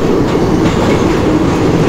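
Express train hauled by a WDP4D diesel locomotive near Bhusaval station in the Open Rails simulator, a loud, steady rumble of rolling wheels and engine drone with no break.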